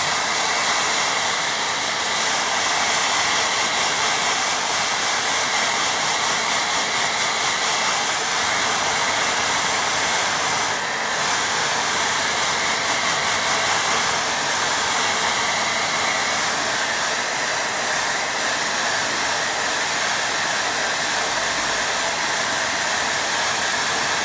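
A hair dryer blows steadily and loudly over a watercolour painting of a windmill, a continuous broadband whoosh with a slight dip near the middle and no talking.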